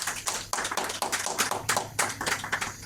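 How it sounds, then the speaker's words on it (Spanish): Church congregation clapping in praise during a sermon, a rhythmic round of hand claps in quick repeated bursts, fairly close and moderately loud, with no talk over it. "Dale un aplauso al Señor si me está recibiendo eso."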